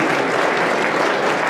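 Audience applauding a civil engineer being introduced at a construction cost engineering conference, steady dense clapping throughout with no pauses.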